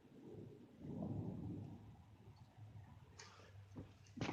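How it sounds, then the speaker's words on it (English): Thunder rumbles low and fairly distant during a rainstorm, swelling and fading in a long roll under steady rain, with a few sharper crackles near the end. "that was just a little thunder"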